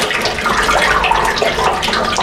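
Coolant drains from the engine of a 1999 BMW 328i (E46), pouring and splashing in a steady stream, loud and close, with dripping and spattering from several points throughout and no talking.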